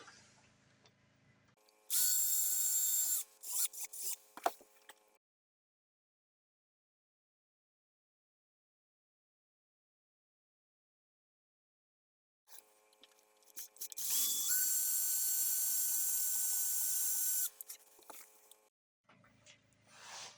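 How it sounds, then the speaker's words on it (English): Power drill boring holes for the bridge of a guitar build, two bursts of high whining motor several seconds each, separated by a long silence, heard close and alone. "So there's the bridge part drilled."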